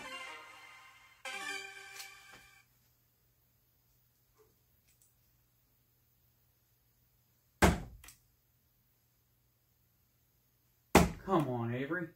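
Darts striking a dartboard during a game, two sharp separate thunks spaced a few seconds apart in a quiet room, with short bursts of voice around them.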